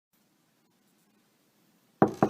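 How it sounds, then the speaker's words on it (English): Knocks on a wooden door in the Dodge City video game Duel at Dawn: a quick pair of close, loud raps near the end after near silence. "I'll just knock on the door"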